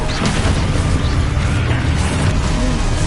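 Spell explosions from combat in the video game Hogwarts Legacy: a dense, continuous barrage of loud booms, crashes and bursts overlapping one another with no pause, with no voices.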